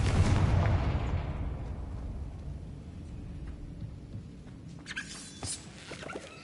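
A Confringo fire spell blasts in Hogwarts Legacy, a loud booming explosion with a long rumbling decay that fades over several seconds, followed by faint scattered clicks and crackles.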